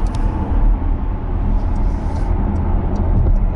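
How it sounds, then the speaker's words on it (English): A Porsche Panamera E-Hybrid's petrol engine cuts in as the car accelerates toward 60 mph, a smooth low droning hum with road and cabin noise, steady and fairly loud. "the engine has cut in as I get up to 60 miles an hour."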